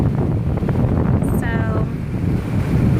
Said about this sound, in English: Oh, the waves are a little bit smaller than when we first got here. It was crazy, but it's crazy windy